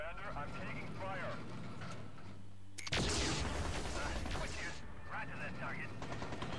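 Gunfire strikes a mech in the MechCommander 2 game as rapid bursts of shots and explosions clatter behind a radioed voice, with a loud barrage cutting in midway.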